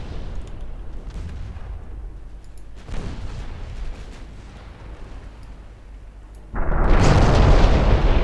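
A torpedo strikes a warship in the naval battle game Ultimate Admiral Dreadnoughts, landing as a heavy, loud explosion near the end after a quieter rumbling stretch that holds an earlier, softer boom.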